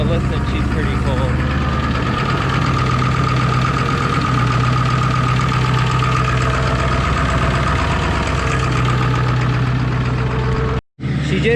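A cold Ford F250 truck engine idles close up, a loud steady diesel-like clatter with a low drone, running continuously before a brief cut near the end; talk is faintly mixed in.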